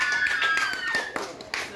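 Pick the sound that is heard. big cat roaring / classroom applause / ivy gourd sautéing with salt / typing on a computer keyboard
classroom applause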